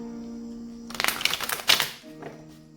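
Tarot cards being shuffled up close, a short burst of rapid riffling flutter and soft slaps lasting about a second, over a low steady background hum.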